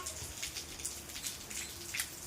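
Rain in the rainy season, a steady close patter of drops on surfaces with soft irregular splashes throughout.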